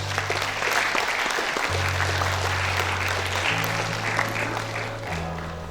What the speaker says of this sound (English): Let your applause be louder.